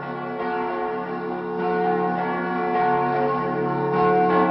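Church bells in a metal song ring in layered, sustained tones, swelling in repeated strikes over a steady harmonic backdrop, loud and clear without voices.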